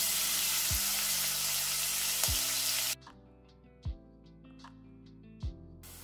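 Chopped onion and green chilies sizzling in hot oil with asafoetida: a loud hiss for about three seconds that suddenly drops to a faint crackle, with music and a few low thumps beneath.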